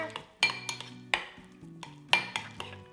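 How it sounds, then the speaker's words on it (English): Chives being stirred into a mixture in a bowl, with several sharp clinks of a utensil against the bowl over a soft, near scraping, with no talking. "Put in your chives. Give that a little stir."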